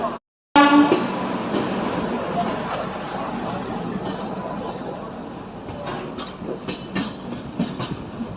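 Shatabdi Express passenger train pulling out of Virangana Lakshmibai Junction (Jhansi) toward Gwalior, heard from inside the coach: a steady loud rumble of wheels on rails builds after a brief silence, with rhythmic clickety-clack joints becoming distinct toward the end.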